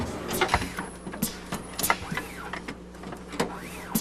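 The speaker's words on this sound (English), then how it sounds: "Inside the handler, we see the chips move to the testing region." A semiconductor chip-testing handler moves chips to its test region with repeated whirring motor sweeps and mechanical clicks. The machine runs in an even, busy rhythm over a faint steady hum.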